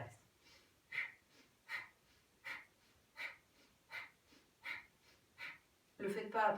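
Yogic abdominal breathing exercise with the belly drawn inward on each exhale: a steady series of about eight short, forceful breath bursts at an even rhythm, close and clear, ending in a louder rush of sound.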